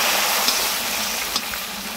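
Pork ribs laid onto potatoes frying in a hot pan, a steady loud hiss of oil sizzling with small crackles and a couple of brief pops, no talk.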